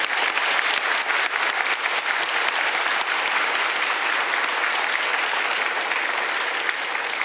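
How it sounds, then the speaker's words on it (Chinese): A large audience at a National Day ceremony applauding medical workers, sustained loud clapping from many hands filling the space evenly for several seconds. "再一次给我们所有辛苦的医护人员最大的掌声"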